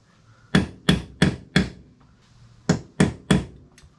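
A hammer strikes a differential nut to stake it during a Toyota 100 Series Land Cruiser differential rebuild: seven sharp, evenly spaced blows in two groups, close and clear, with no talk.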